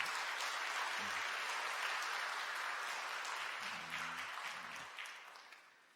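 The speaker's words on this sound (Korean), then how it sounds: "여러분들 환영의 박수 부탁드립니다" A church congregation at a Sunday worship service claps in welcome, a fairly faint, even wash of applause that holds for several seconds before tapering off, with a few low voices murmuring underneath.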